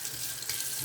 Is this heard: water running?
yes